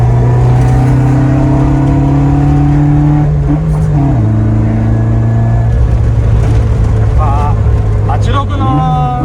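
Toyota 86 engine with funnel intake, heard from inside while driving in fifth gear, a loud steady drone that rises and shifts pitch with throttle changes, with people talking over it.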